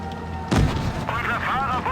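A tank cannon from a Pz.Slf. IV C in World of Tanks Blitz fires once with a sharp, loud boom halfway through, followed by a rumbling decay beneath steady background noise.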